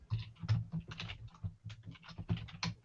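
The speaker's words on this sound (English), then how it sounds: "I am typing." Rapid typing on a computer keyboard, with irregular clicks of soft to moderate loudness close by and no voices.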